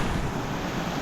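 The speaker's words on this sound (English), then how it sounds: "This is a beautiful little waterfall" A small waterfall in a creek gives a steady, broadband rushing splash, close and continuous for a brief moment, with no voices.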